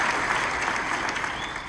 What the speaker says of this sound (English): we give a big round of applause to the staff who's out there working with us today